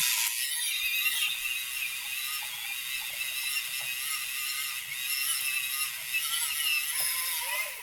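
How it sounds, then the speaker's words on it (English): A Karisma colored pencil being sharpened, a continuous high-pitched grinding and scraping with a faint ratcheting quality, close and unbroken. "It's kind of painful, right? To sharpen those pencils."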